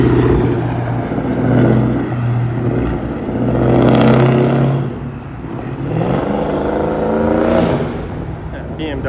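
A BMW accelerates on a busy Toronto city street at night, engine revving in loud swelling surges over steady traffic rumble, with people talking nearby.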